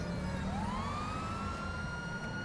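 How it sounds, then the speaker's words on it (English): A wailing emergency siren sweeps upward and holds, loud and close, over steady traffic noise as the vehicle passes. "The ambulance went by."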